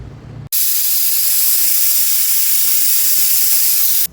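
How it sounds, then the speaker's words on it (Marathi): A pressure cooker on a medium flame, cooking a Maharashtrian dal and greens dish with chana dal, lets off a loud, continuous hiss of steam that starts abruptly after a brief quiet moment and holds steady to the end. "कुकरचं झाकण बंद करून मीडियम फ्लेमवरती चार शिट्ट्या आपल्याला करून घ्यायच्या आहेत"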